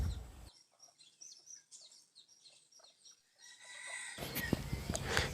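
A young hen clucks and chirps in a few soft, close calls over quiet background, followed by a louder burst of broadband noise near the end.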